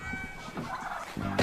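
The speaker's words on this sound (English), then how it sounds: "Where'd you get all these turkeys, son?" A flock of turkeys gobbling and clucking nearby in a continuous, fairly loud jumble of calls, with a sharper burst at the end.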